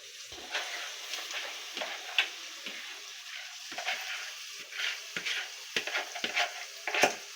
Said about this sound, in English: my husband is cooking egusi soup